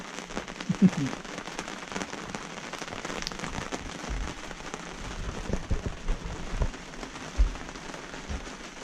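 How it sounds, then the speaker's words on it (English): Rain patters on a hard surface of a docked sailboat nearby, with heavy drops striking irregularly over a steady wash of falling water. "But hopefully the rain will stop soon."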